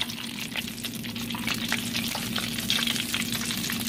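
Shrimp fry in hot oil, producing a loud, continuous close-up sizzle and crackle with steady hiss and scattered popping bursts throughout, and no talking.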